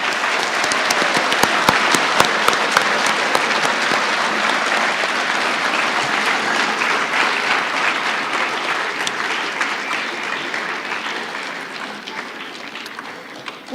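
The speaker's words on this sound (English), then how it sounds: "show your appreciation with a round of applause" A school assembly crowd gives a long round of applause for military veterans, loud sustained clapping from many people with sharp individual claps standing out, gradually tapering near the end.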